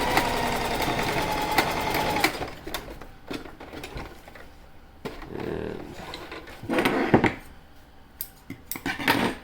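A sewing machine stitches a fabric surgical mask, whirring in close, loud bursts that stop and start several times, with clicks and handling of the cloth between runs.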